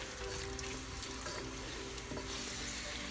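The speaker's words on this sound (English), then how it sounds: "We're gonna mix this up." Tomato puree being stirred into a Sri Lankan chicken curry with coconut milk, a constant close bubbling sizzle with soft scraping stir sounds throughout.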